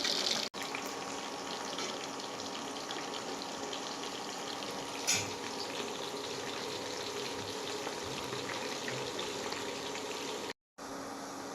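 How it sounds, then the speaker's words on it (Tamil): Kadal ayirai fish fry in hot oil with a continuous, even sizzle and bubbling close by. It is broken by one brief clack near the start and a short drop to silence near the end. "மீன் நல்லா பொரியட்டும்."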